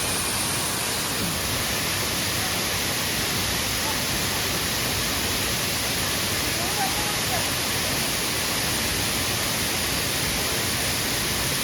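Anachadikuthu waterfall, a forest cascade in Kerala, roaring as a dense, constant broadband rush of falling water, loud and close with no break.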